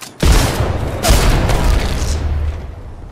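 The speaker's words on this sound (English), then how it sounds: "Grenade out." A grenade goes off in the video game Apex Legends: a heavy boom followed by a second blast about a second later, each trailing into a rumbling tail that slowly fades.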